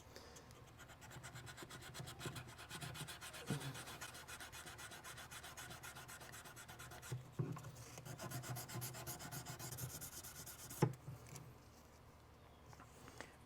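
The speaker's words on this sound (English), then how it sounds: "I'm going to sand this surface up here" Continuous rapid scratchy rubbing of sandpaper on a metal jewelry piece, close and fairly quiet, with a few sharper knocks along the way.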